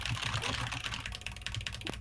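Normal-paced typing on a computer keyboard, a quiet close run of quick irregular key clicks with no talking.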